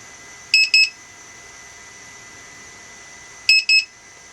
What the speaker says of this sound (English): 60 seconds has gone by and it's alarming.